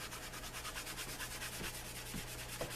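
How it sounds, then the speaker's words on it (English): A cloth rubs rhythmically over a top-coated leather holster, buffing it in quick, even back-and-forth strokes, faint and close with no voices. "it's soft enough to take a good buffing"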